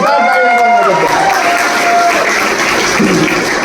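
Loud, steady applause and crowd noise fill a function hall, with voices talking through the clapping.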